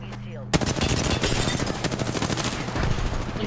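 Rapid automatic gunfire crackles in the Apex Legends video game, loud and close, opening with a sharp burst and continuing as a dense stream of shots with bursts overlapping.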